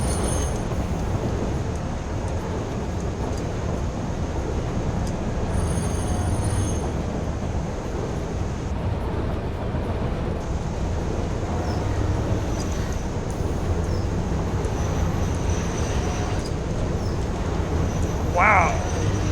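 A train rolls along in the factory-building game Satisfactory, a steady rumbling wash of wheels and track noise throughout, with a brief high squeal near the end.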